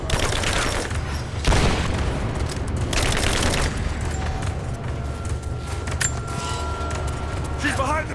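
A firefight in Rise of the Tomb Raider: sustained volleys of gunfire and booming impacts roll on continuously, with soldiers shouting over the shooting and a faint high tone lingering near the end.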